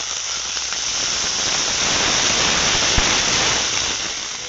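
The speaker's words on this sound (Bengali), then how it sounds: "এবার দিয়ে দিচ্ছি কাঁচা লঙ্কা আর আদা বাটা অল্প একটু জল" Loud, steady sizzle and hiss as green chilli, ginger paste and a splash of water hit fried onions in a pan, a dense spray of sound that swells slightly and then eases off.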